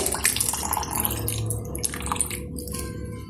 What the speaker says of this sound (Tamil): இதில் உள்ள சீடெல்லாம் போகிற மாதிரி நான் நல்லா பீச்சு பண்ணி எடுத்துக்கிறேன்